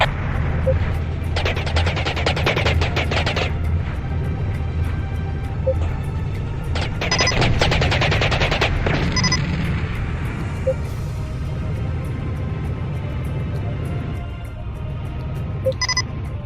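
Turret gunfire in Battlezone Combat Commander, with repeated rapid automatic bursts over a steady low engine rumble and occasional booms, loud and continuous throughout.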